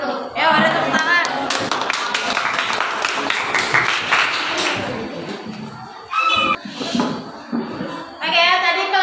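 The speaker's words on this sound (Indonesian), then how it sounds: "Ya, ada tepuk tangan." Classroom applause following a student group's presentation on a Pascal's law hydraulic pump experiment: several seconds of loose, overlapping hand claps from a class, mixed with chatter and a few voices, pausing briefly before resuming.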